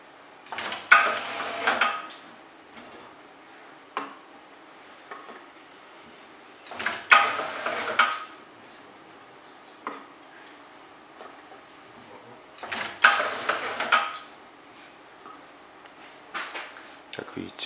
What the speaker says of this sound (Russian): представляю вашему вниманию этикетировочный модуль модели AE2